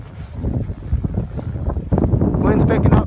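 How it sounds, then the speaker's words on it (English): Strong wind gusts roar during a lake-effect whiteout snowstorm in Buffalo, a loud buffeting rush against the microphone that builds toward the end, with a person speaking over it. "Wind's picking up."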